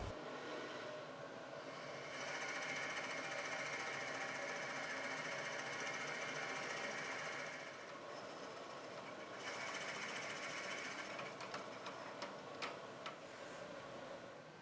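A lathe or drill cuts a 1.5-inch hole into the base of a maple and mahogany box, a steady grinding whir that rises and dips in loudness with some ticking near the end.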